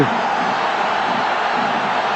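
Football stadium crowd roaring in ecstasy after a goal at a UEFA Cup match between Vitoria Guimaraes and Parma; dense, sustained distant crowd roar throughout with no break.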